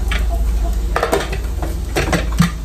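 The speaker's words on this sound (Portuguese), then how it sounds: "agora eu vou botar a pressão e vou deixar ela aí cozinhando" Pots and pans clank on a kitchen stove as a pressure cooker is set down for cooking baião de dois, several close metallic knocks and scrapes spread over a few seconds with no talking.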